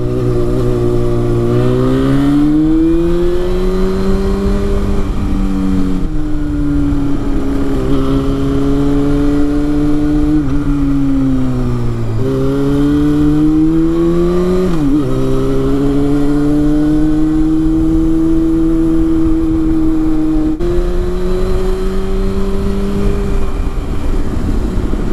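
A motorcycle engine revs up and down repeatedly, its whining pitch climbing and dropping in waves, loud and close throughout.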